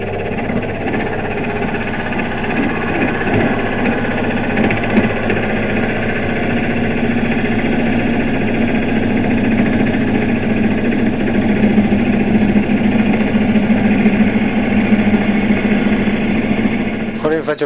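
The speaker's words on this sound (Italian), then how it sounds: "poi si entra nel legno piano piano alzando il manico" Wood lathe spinning steadily while a skew chisel cuts into the turning wood, a continuous loud whirring hum with a rough cutting texture that swells slightly toward the end.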